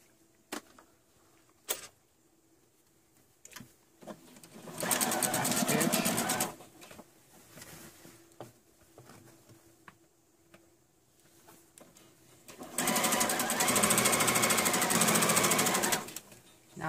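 A sewing machine stitches the sleeve seam of a happi coat in two steady whirring runs, each lasting about two seconds, separated by a quiet pause with small handling clicks.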